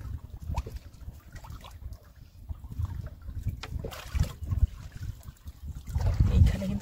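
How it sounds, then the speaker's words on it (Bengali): Rough, wind-whipped waves on the Bidyadhari river in the Sundarbans slap and wash around a small fishing boat, a continuous low churning with louder surges toward the end. "আজকে নদী একদম উত্তাল, হাওয়া দিচ্ছে দক্ষিণ পূর্ব কানাগানি, না ভুল বললাম, উত্তর পূর্ব কানাগানি, যে কারণে ঢেউ হচ্ছে খুব"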